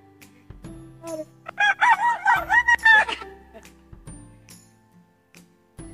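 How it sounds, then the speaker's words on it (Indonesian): A rooster crows once, loud and close, in a long rising and falling call lasting under two seconds, with faint voices and background noise before and after. "Orang ayam lagi kukuruyuk gitu."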